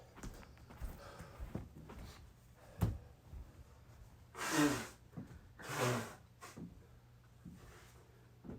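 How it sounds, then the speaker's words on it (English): A person blows their nose briefly during a break between exercise reps, with two close bursts of breathy, honking blowing a second apart. Lighter shuffling and a sharp click come just before. "Blow my nose real fast."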